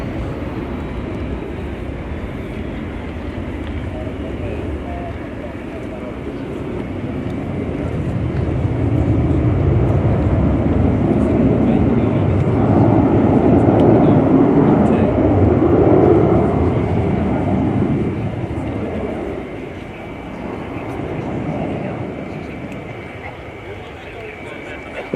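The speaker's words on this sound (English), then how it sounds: "This one, giving us a slow pass, is the 3rd one built, which has been involved in the certification and demonstration campaigns for the C-390" A KC-390 military transport aircraft in Brazilian Air Force colours makes a slow pass at an air show, its turbofan roar swelling to a broad peak and fading, with a commentator talking over it.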